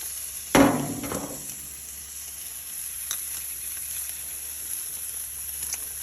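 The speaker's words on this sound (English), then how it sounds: "See that sizzle? It's a nice sear on these." A T-bone steak sizzles on a hot outdoor grill, a steady quiet hiss with a brief sharp clatter near the start.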